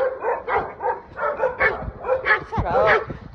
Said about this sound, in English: They over here barking at Brody, and Brody is just walking.